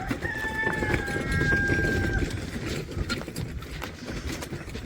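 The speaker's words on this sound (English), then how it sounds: "Chickens." On a goat farm at feeding time, a rooster crows once near the start while chickens cluck around it, with footsteps and rustling close by.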